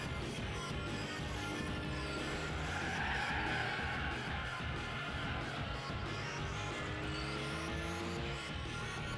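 Race cars skid and scrub their tires in Gran Turismo 4, a continuous smeared squeal over droning engines that holds steady and loud throughout, with no pause or talk.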